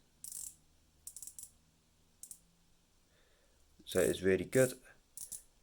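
Unidirectional 120-click bezel on a Seiko Padi Turtle dive watch (SRPA21K1) turned by hand, giving short bursts of crisp clicks spread through the clip, with someone speaking briefly near the end.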